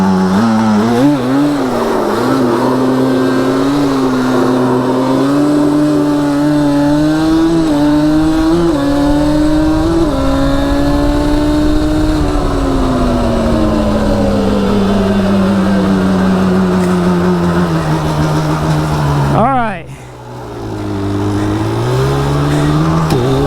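A quad ATV engine revs hard and steadily through a powerslide drift, its loud buzzing pitch rising and falling with throttle, then dipping sharply near the end before climbing again.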